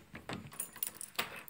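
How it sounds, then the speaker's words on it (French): Keys jangling against a door while it is locked in windy weather: a short burst of light metallic clinks and rattles, close and fairly faint, with no talk. "Je verrouille la porte. Désolé si vous avez entendu porte-clés."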